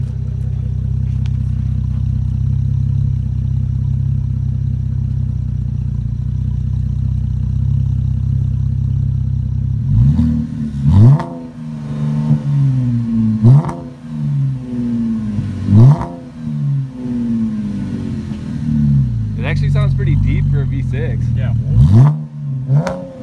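A straight-piped Cadillac CTS Coupe exhaust idles with a loud, steady low rumble, then revs sharply several times, each rise followed by popping and crackling on the decel. It is close and loud, with people talking over it.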